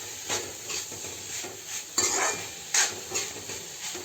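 A spoon stirs a sprouted matki curry in a pan, Maharashtrian style, with red chilli powder just added. Rhythmic scrapes and soft clinks sound over a gentle, continuous sizzle, close up.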